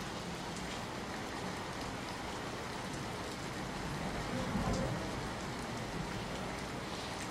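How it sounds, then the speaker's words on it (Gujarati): Heavy, steady downpour during monsoon flooding in Navsari district, Gujarat, a dense continuous hiss of rain striking surfaces, faint and even throughout with no voices. "નવસારી જિલ્લામાં સતત ધોધમાર વરસાદ વરસ્યો છે"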